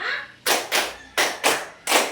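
Children clap in unison in a classroom clapping game, five sharp group claps in an uneven counted rhythm, fairly close and loud with short silences between.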